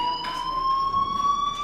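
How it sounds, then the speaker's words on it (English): A fire alarm rings in the video game Life is Strange, a steady high electronic tone that holds continuously and rises slightly in pitch, loud and steady, with no voices over it. "Hey, do you hear that fire alarm?"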